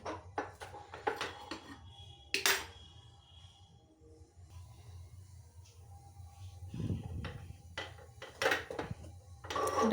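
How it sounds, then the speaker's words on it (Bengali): A sweet mixture being stirred continuously in a kadai, irregular scraping and knocking of a spoon against the pan, close and fairly quiet, with a few sharper clinks and a thicker scrape partway through. "এবার এটাকে সমানে নাড়তে হবে নাড়া বন্ধ করলে হবে না"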